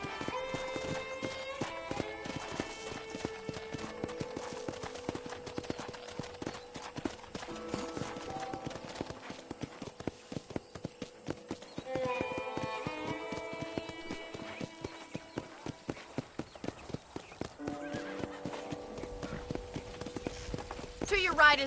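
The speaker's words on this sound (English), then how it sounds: "let's see if you can still ride a horse" In Red Dead Redemption, a horse trots with steady, evenly spaced hoofbeats that continue throughout, under background music.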